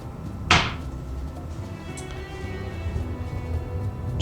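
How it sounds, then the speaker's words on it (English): A hotel bathroom door in a Disney's Gran Destino Tower room swings shut with a single solid wooden thud near the start, followed by quiet room tone and faint handling sounds. "And then the bathroom door closes"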